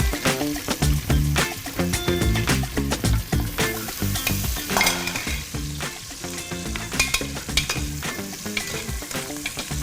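A large onion frying and stirred in a pan with whole spices, including mace, for mutton pulao: a steady sizzle with stirring, heard alongside a prominent rhythmic musical layer.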